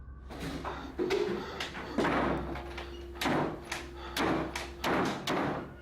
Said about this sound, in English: a door that opens and shuts on its own repeatedly